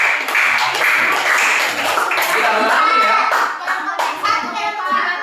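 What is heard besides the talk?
class clapping hands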